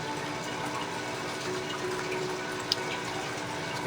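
Liquid casting plastic is poured into a small mould for plastic legs, a soft, steady trickle that runs quietly and alone throughout with one faint tick near the end.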